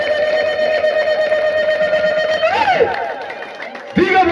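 A church congregation ululates in praise of the Lord, a sustained, high, wavering trill that bends in pitch partway through, with crowd noise and a fresh burst of voices at the end.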